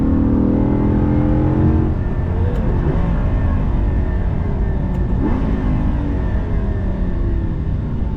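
A supercar engine in the Forza racing game roars loud and close at full throttle, its pitch sliding as gears shift. Two faint high ticks cut through the sustained engine drone.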